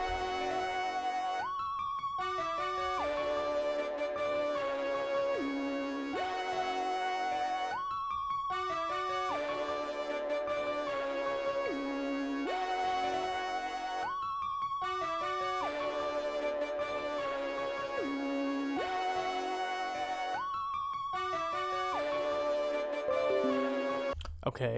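A looping synth melody for a Glo-style beat made in FL Studio, a bright repeating phrase that cycles four times, played alone with steady volume and no talking.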